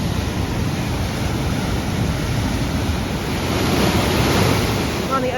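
Rushing river water near Leavenworth, Washington, swollen with ice melt, makes a steady broadband roar, close and fairly loud, swelling slightly toward the end with some wind noise mixed in.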